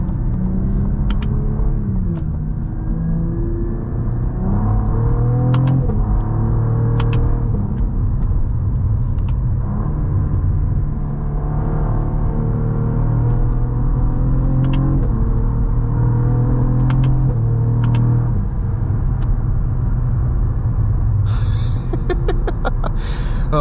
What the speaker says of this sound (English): Let's just head out onto the highway here.